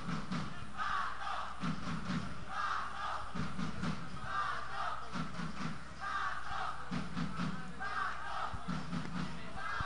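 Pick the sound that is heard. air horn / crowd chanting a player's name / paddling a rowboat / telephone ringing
crowd chanting a player's name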